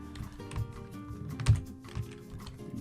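Keys clatter on a computer keyboard while Java code is typed in Eclipse, a close, uneven run of light clicks with one heavier keystroke near the middle.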